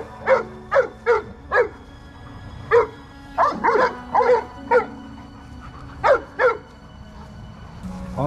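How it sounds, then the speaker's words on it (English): A Cane Corso barks repeatedly nearby, short sharp barks in quick bursts with brief pauses, loud and close. "Roxy, enough of that barking."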